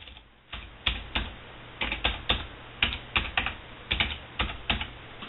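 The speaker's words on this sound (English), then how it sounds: "on your keyboard, you can hit enter" Keys tapped on a computer keyboard while entering a search, heard close up as short, crisp clicks in quick irregular bursts with brief pauses, and no voices.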